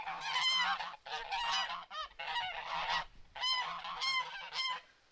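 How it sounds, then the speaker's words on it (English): Farm geese honking and squawking loudly up close, repeated harsh calls coming in several overlapping bursts with only brief pauses between them. "Let me get the geese out so they'll stop squawking"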